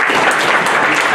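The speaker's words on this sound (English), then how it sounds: "You guys can clap, he works pretty hard." Dense audience applause at a public safety meeting, a steady wash of many hands clapping close and loud throughout, with a faint murmur of voices mixed in.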